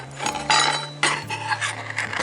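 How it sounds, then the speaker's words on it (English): Chopped vegetables tipped into a Dutch oven at a campsite, already holding Italian sausage: a couple of sharp clattering thumps and scraping against the metal pot over a low steady hum, with no talk. "just gonna dump all that veg we cut up right in there"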